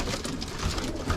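Young racing pigeons being readied for the flying season coo softly in a loft, a low murmuring burble over steady background noise for about a second, with no talking.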